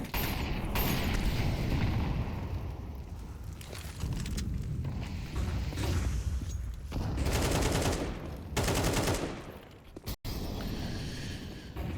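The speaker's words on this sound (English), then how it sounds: "they got to do it with pistols and an MP9 and one Flamus A1S" Rapid gunfire from pistols and an MP9 submachine gun during a Counter-Strike esports match on the Ancient map, dense overlapping shots and bursts filling the mix in loud sustained volleys with brief pauses.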